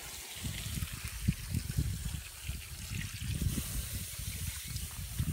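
Water pours and trickles steadily onto hot campfire embers, a close, continuous splashing hiss with no voices.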